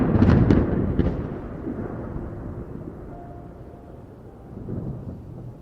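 A loud thunder crack that rolls into a low, fading rumble during a heavy storm, then swells again briefly before trailing off, with no voices.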